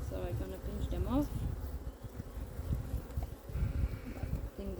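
Honey bees hum steadily around an open hive during a frame inspection, with swarm cells on the frames, a dense close buzz running throughout alongside faint background noises.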